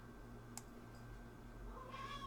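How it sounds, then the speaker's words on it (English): A pet cat gives a single faint meow in the background near the end, quiet beneath a steady electrical hum in a room, preceded by a small click and with no speech. "you might accidentally hear my cat in the background"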